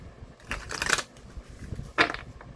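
A deck of cards being shuffled for a pick-a-card reading, giving two short papery riffling bursts, the second sharper, close up and with no talking.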